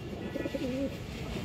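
A large female pigeon with a black tail and khorgola markings coos once at close range, a soft throaty rolling call rising and falling over a steady low background hum.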